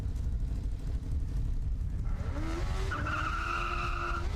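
A Formula SAE race car at an autocross event builds a loud, steady engine roar with a rising pitch as it pulls up, alongside scrubbing tire noise.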